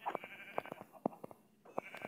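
Sheep bleat in the Minecraft video game, short clipped cries repeating in quick succession at a moderate, even level with no talking.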